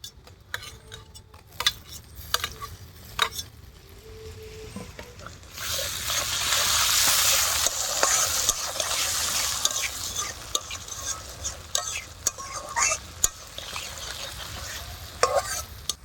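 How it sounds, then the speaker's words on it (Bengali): Spice masala frying with chopped tomatoes for palak paneer, first scattered clinks and scrapes of stirring, then a loud sustained sizzle once the tomatoes go in, with ongoing stirring clatter, close and without talk. "টমেটো কুচিগুলো দিয়ে দেবো মশলাটার ভিতরে।"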